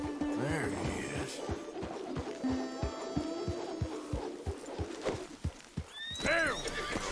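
Horses in the Red Dead Redemption video game whinny and neigh several times over a steady clip-clop of hooves, with a faint hum under it and a voice speaking briefly.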